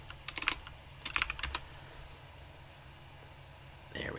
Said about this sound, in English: Here, I'll type something to you.